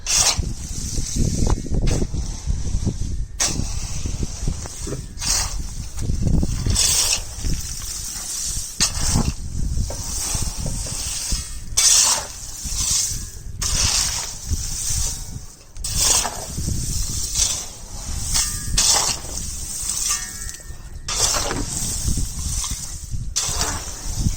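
A mixing machine churns a batch of health mix powder in a production setting, giving a loud, continuous rushing hiss with rhythmic surges and dips throughout.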